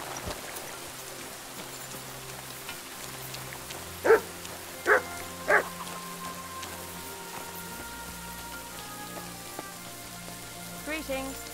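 A dog in Kingdom Come Deliverance 2 gives three sharp barks, evenly spaced and moderately close, over a steady rain-like hiss and low background music, with faint further yips near the end.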